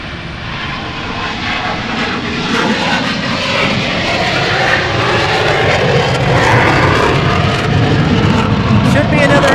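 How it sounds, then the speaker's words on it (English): An F-15 fighter jet roars continuously during takeoff at Portland International Airport, a loud, broad engine noise sustained throughout with voices talking underneath. "There goes our F-15."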